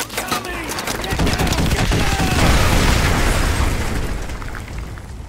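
Danger-close artillery explodes in Modern Warfare 2, a heavy, sustained barrage of booms and rumbling blasts with crackling debris that swells loud and stays dense throughout.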